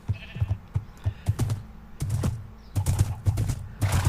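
Sheep in the Minecraft video game bleating in short repeated bursts, loud and close, mixed with sharp clicks and thumps of play, no speech.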